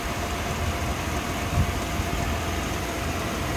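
A 1991 Cadillac Brougham's 5.7 V8 engine idles with a smooth, steady low rumble, close by and continuous, with no voices.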